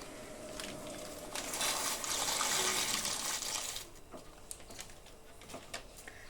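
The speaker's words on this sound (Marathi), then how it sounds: "तो पास्ता आपण पाण्यामध्ये टाकायचा" Pasta dropped into a pot of water, with a rushing, splashing burst of liquid that swells for a couple of seconds and then settles into faint trickles and light knocks, with no speech.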